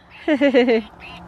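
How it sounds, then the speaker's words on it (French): A singing plush toy duck, an Easter gift, lets out a close, loud burst of four quick electronic quacks followed by a fainter chirp. No voices are heard. "mignon petit canard en peluche. Voilà, qui chante."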